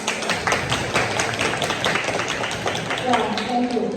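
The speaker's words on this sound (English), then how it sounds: "can you please give me an applause to express your happiness?" Audience applause in a hall, a steady wash of many hands clapping for several seconds, with some voices mixed in near the end.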